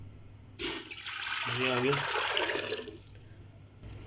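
About 1.5 litres of water poured into a pressure cooker while preparing mutton haleem, a loud steady rushing splash that fills the pot for a couple of seconds, with a brief spoken remark partway through.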